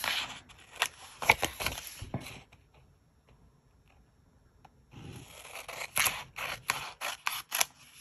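Paper being cut by hand for a hot air balloon themed planner spread, with sharp snips and crisp rustles in two close bursts separated by a quiet pause.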